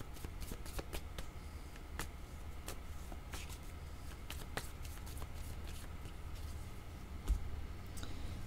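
Tarot cards are shuffled by hand, making soft, close riffling and light scattered clicks and taps that are fairly quiet and uneven in rhythm.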